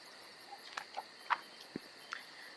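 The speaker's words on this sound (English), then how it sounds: "The chirping of the insects seemed to grow quiet." Insects chirp faintly in a quiet night setting, a thin steady high trill with a few scattered short clicks and ticks, no voices.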